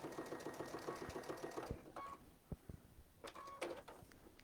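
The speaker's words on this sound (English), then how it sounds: "now I'm going to back stitch right here." A sewing machine back stitches while binding a quilt, giving a quick run of fast rhythmic needle stitching, then pauses with faint clicks before a short second burst, all fairly quiet and close.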